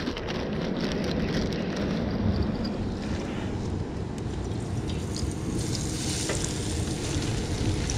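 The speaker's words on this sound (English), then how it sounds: "That is fresh whiting and that is sizzling." Whiting fillets sizzle steadily in a hot frying pan, a dense continuous crackle and hiss close by, with no talking.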